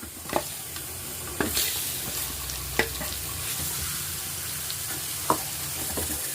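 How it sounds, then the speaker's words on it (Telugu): Mustard seeds, cumin, asafoetida and curry leaves sizzling in hot oil with chutney, a constant close crackle broken by several sharp spatula clatters and stirs, no voices. "ఒక స్పూన్ ఆవాలు జీలకర్ర కొంచెం ఇంగు వేసుకుందాం కొంచెం కరివేపాకు ఈ పచ్చడి వేసుకుందాం"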